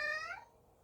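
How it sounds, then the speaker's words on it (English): A house cat lets out a single short meow, faint and somewhat distant, fading out quickly into a quiet room. "And that is my cat joining,"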